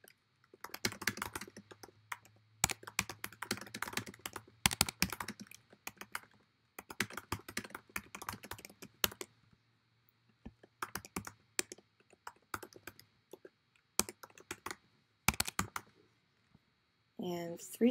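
Bursts of rapid keyboard typing, clicking in quick clusters with short pauses between, close and fairly quiet.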